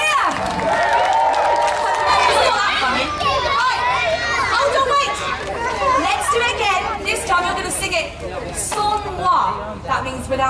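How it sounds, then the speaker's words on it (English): A loud, dense crowd of children cheers and shouts at a kids festival at Knebworth House, an unbroken wall of young voices that rises and falls for the whole stretch. "Give yourselves a massive cheer."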